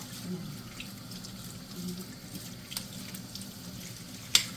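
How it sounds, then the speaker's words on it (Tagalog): Tap water running into a sink while freshly harvested garden vegetables are washed, a steady soft splashing wash close by, with a brief sharp clink near the end. "Marami po tayong huhugasan."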